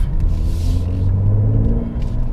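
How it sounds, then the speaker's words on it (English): A deep, steady exhaust rumble from the 3-liter V6 of a 2021 Mercedes-AMG GLC 43 during launch, loud and close, holding a low droning tone throughout. "I just like the way the exhaust sounds."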